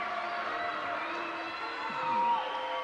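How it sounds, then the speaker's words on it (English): Crowd noise from fans at a National Wrestling Alliance title match, Dan Severn vs. Naoya Ogawa, a steady broad wash of cheering and clapping that swells slightly near the end, with no talk over it. "And listen to the fans applaud."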